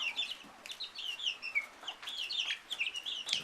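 Five-week-old Rhode Island Red and Barred Rock chicks clucking and peeping, rapid overlapping high chirps and short calls from several birds close by, fairly quiet with no talk.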